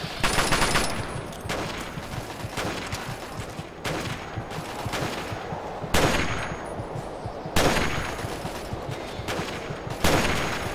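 Gunfire in the video game Fallout 3: loud bursts of rapid shots and heavy bangs that recur every couple of seconds over a dense, noisy battle din.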